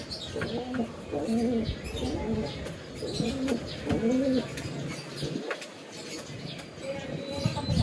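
Racing pigeons cooing close by in a loft, soft throaty rolling coos repeating in short bursts, with some chirps and wing rustling under a faint background hum.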